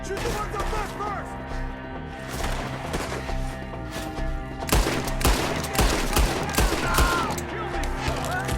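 Gunfire and battle noise in Red Dead Redemption 2, with rapid overlapping shots growing denser in the second half, heard over a continuous game soundtrack.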